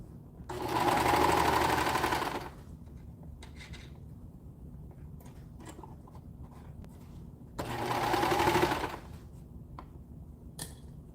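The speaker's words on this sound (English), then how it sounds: "I can sew this on that and we can test it." Sewing machine stitching a fabric seam in two loud whirring bursts of about two seconds each, separated by quiet handling noises and small clicks.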